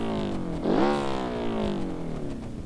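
A four-cylinder car engine in BeamNG.drive revs up sharply and then winds down steadily, loud and close with a rich harmonic tone and no talk over it.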